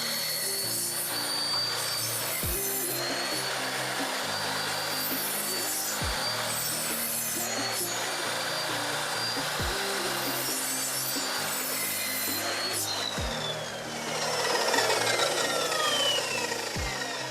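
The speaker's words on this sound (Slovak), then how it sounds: "Veľmi pekne to reže. Ten kotúč 40 zubov z striedavý zub" Pro-Craft PGS 256 saw fitted with a 40-tooth alternate-bevel blade cutting wood in a workshop: a loud, steady grinding whine with a few sharp thumps, running continuously and alone.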